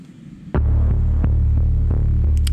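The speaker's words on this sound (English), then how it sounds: "just a little pounding synth bass pattern, which is Heaviosity Foundations bass that I used for this one" A pounding synth bass pattern played alone, using the Heaviosity Foundations bass patch: deep, throbbing low notes repeat in a steady, driving pulse after a quiet start.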